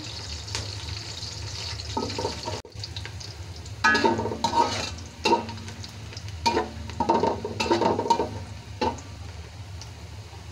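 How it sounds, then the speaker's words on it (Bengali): Onions frying in a pan with whole bay leaves, cinnamon and cardamom for a chicken roast, a steady low sizzle under repeated bursts of spatula stirring and scraping, close and fairly loud, with no talking. "পেঁয়াজ মশলা ভাজা হয়ে গেছে"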